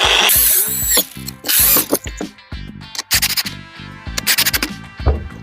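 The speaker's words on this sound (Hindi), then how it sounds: "अभी हम इधर अपने 2 सुराख कर लेते हैं" A power drill bores two holes into an aluminium window piece for a lock fitting, loud whining bursts that start and stop repeatedly with gritty metal-cutting texture between them.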